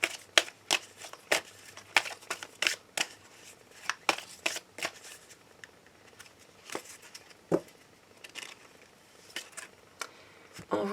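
Tarot cards riffled and shuffled for a reading in quick, crisp bursts with brief pauses between them. The shuffling is close and clear, with no one talking over it.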